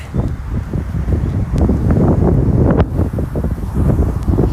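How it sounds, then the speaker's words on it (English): Strong gusts of wind buffet the microphone, a loud, continuous rumbling blast with no talking. "Can't believe how windy it is."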